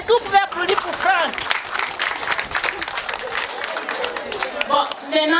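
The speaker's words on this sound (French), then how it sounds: "Est-ce que vous pouvez applaudir pour Franck?" An audience applauds a student named Franck at a 2023 school excellence awards ceremony held at a bilingual high school in Balengou; dense, steady clapping fills the whole stretch, with some crowd noise and voices mixed in.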